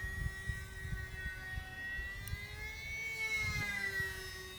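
A small E-flite Timber UMX electric RC airplane flying with flaps down, its motor whining in a steady tone that rises and falls slightly in pitch as it passes, over outdoor wind rumble.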